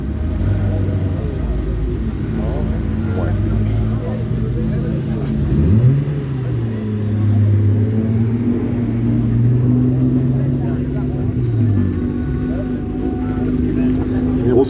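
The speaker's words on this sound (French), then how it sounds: "Voiture qui date dans cette version de 1978" A 1978 competition car's engine at a historic hill climb race, a loud continuous drone that revs up and down with pitch sweeps, heard alongside a commentator's voice.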